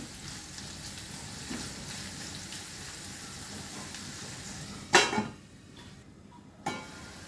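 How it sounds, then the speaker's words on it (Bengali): Carrots frying in a pan for semolina upma give a steady, low crackling sizzle, with a sharp clatter near the end followed by a quieter sizzle. "এবারে আমি গাজর দিচ্ছি, গাজরগুলো একটু ভাজবো"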